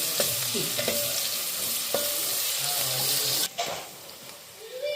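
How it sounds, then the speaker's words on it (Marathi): Chopped onion sautéing in a pan with garlic for anda bhurji, a continuous loud sizzle with occasional spatula scrapes and taps, close by, the hiss dipping briefly near the end. "कांदा पण छान असं छान असं परतून थोडा ब्राऊन होईपर्यंत परतून घ्यायचं आपल्याला"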